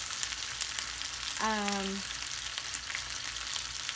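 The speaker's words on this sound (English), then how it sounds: "we're just gonna let this cook for about 10 minutes" Chorizo frying in a pan, a steady close sizzle and crackle throughout, with one short tonal squeak near the middle.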